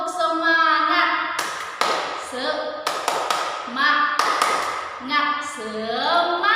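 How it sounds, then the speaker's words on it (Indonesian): A teacher and class perform the Indonesian 'tepuk semangat' spirit clap, with sharp rhythmic clap bursts punctuating chanted voices in a classroom, repeated in short patterned groups. "mari kita semuanya membuat tepuk semangat."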